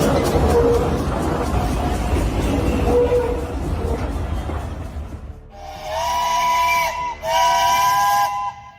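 A preserved steel mill steam locomotive on display in Ohio sounds a loud, piercing whistle in two long blasts with a brief break, after rumbling train noise and crowd murmur.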